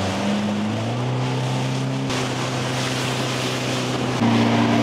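Motorboat on Lake Garda, Italy, throttling up: a steady loud engine drone with tones that step higher as it gains speed, over wind and water rush, no talk.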